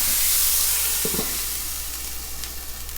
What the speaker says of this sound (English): get some water here. Build up a little quick steam real quick.